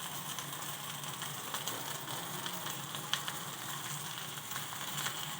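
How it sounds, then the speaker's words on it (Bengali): Paturi fries in a pan with a steady, fairly quiet sizzle and a couple of small clicks as the pieces are flipped, with no talking. "দেখো এগুলো আমি উল্টিয়ে ভেজে নিচ্ছি।"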